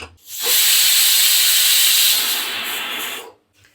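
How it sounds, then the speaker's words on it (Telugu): Pressure cooker whistle venting steam while mutton keema cooks, a loud continuous hiss of about three seconds that eases slightly toward the end before cutting off. "చిన్న చిన్న విజులు వస్తున్నాయండి ఏంటో ప్రెజర్ అంతా పోయిందండి"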